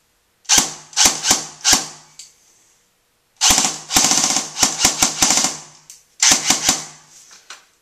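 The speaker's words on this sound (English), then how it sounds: "I'll do a shooting test, trigger response test, if you'd like." A KWA Mk18 airsoft rifle fires in three loud, close bursts of sharp rapid shots with short pauses between them, as in a trigger response test.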